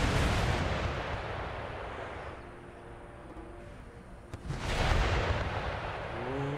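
Rocket volley fired in Empire: Total War, a heavy rumbling roar of launches that fades, then a second loud burst of firing rises near the end.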